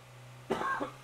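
A single short, husky cough from one person, close and fairly loud, with a faint second catch right after it over a low steady hum.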